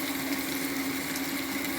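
Tamarind paste and turmeric fry in a pan for an eggplant and jackfruit seed curry, a close steady bubbling sizzle with a constant hiss throughout, no talk.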